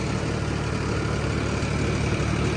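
A tractor, referred to as a 60, powers a toka chaff-cutting machine on a Punjabi farm, giving a steady, close, droning engine hum with a low harmonic throb that holds unbroken throughout, with no talk.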